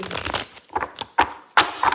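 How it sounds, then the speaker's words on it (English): Tarot cards are shuffled by hand in quick riffling bursts, several crisp papery rushes close to the microphone with short pauses between, and no talk. "we're going to stop shuffling right there"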